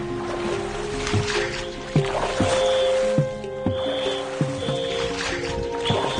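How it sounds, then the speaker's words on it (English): A boat working its way down a river in China, with water sloshing and knocking against the hull, repeated soft thuds, a steady engine-like hum, and occasional faint distant tones over a continuous wash. "The boat is making its way down the river."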